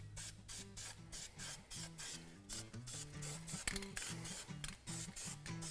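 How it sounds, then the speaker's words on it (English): Short repeated hissing bursts of a spray paint can coating a brake flange, close and quiet, with a faint musical tone underneath. "I'm gonna take some spray paint, paint it up so it doesn't rust"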